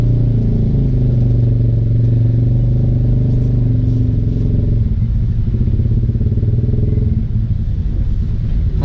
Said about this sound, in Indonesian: Aduh, macet guys.